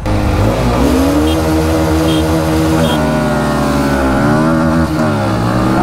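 Bajaj Pulsar NS160 (2024) and TVS Raider 125 motorcycles launch side by side in a drag race, engines loud and steady throughout with rising and falling rev sweeps as gears shift, no talking.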